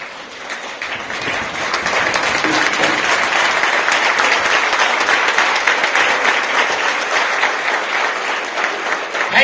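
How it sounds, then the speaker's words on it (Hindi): Loud, sustained applause from a large audience at a school zonal sports and cultural prize distribution, honouring the chief guest, a thick wash of clapping that swells quickly and holds strong for several seconds before easing slightly. "एक बार अपनी जगह पे खड़े होकर हमारे आज के कार्यक्रम के मुख्य अतिथि आदरणीय श्री विकास कालिया जी के लिए जोरदार ताली बजाएंगे"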